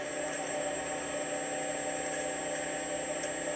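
A Powerflow Marine G22 electric sailboat motor runs in forward at full speed, a steady close whine with a high tonal hum and faint mechanical vibration, alone and unchanging.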